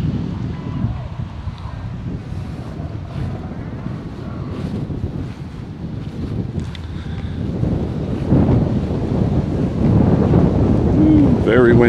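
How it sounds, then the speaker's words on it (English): Strong wind buffets and roars across the microphone, gusting louder toward the end, with low rumbling and a hint of water or motion beneath, at Freeman Lake Park, Elizabethtown, Kentucky. "Very, very windy."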